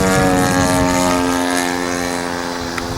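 Loud, steady buzzing drone from a 50cc Revolver engine powering an RC airplane at half throttle on its maiden flight, a smooth tonal whine holding close and constant throughout, free of any talk.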